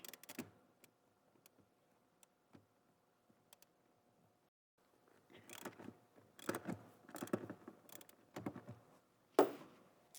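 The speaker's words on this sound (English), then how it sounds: "the first step it says to do is to remove the front seat bolts. It's a 14mm socket" Ratchet with a 14mm socket loosening front seat bolts on a Toyota Tacoma, giving sparse clicks early and then bursts of rapid ratcheting and mechanical clatter that grow busier and louder toward the end.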